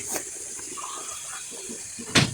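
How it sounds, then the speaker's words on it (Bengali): Water runs briefly from a tap into a pan of braised baim eel fish, a soft, faint trickle that ends in a short louder splash. "এখন তুমি জল দিয়ে দিব"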